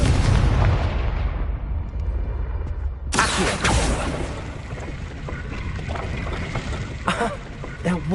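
The Confringo blasting spell in Hogwarts Legacy bursts in a loud explosion, and a second sharp blast follows with a crackling, rumbling tail that fades under faint voices.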